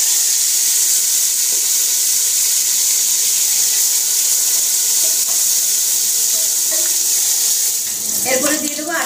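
Hot oil in a pot holds a steady broad hiss of sizzling as marinated chicken goes in, with a brief burst of spattering crackle near the end; no one speaks.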